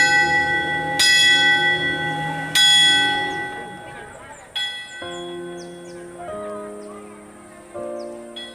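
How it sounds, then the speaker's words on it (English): Ernabella Church bell rung by rope, loud ringing strikes with long sustained ringing tones, several strokes spaced a second or more apart, each decaying slowly, with faint rustling and outdoor ambience. "And then the bell was ready to ring."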